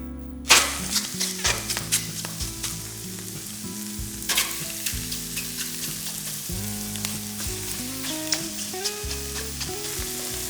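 Boneless, skinless chicken thigh cutlets are laid in a dry pan, preheated for five minutes with no oil, and hiss into a loud, steady sizzle up close with scattered crackles.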